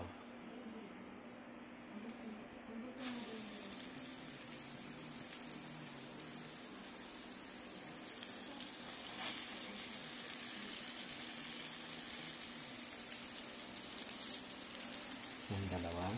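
Canola oil sizzles and crackles steadily in a frying pan, a soft, continuous hiss that stays even throughout, with no talking over it.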